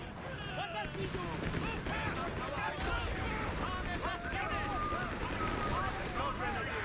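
Battle in a World War II style game with dense overlapping rifle and machine-gun fire crackling continuously, near and distant shots mixed, while soldiers shout over it.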